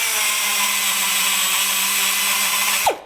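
A 1 horsepower air tool runs at full speed as a loud, steady high-pitched whine with a constant tone, then spins down abruptly at the end, with no voices.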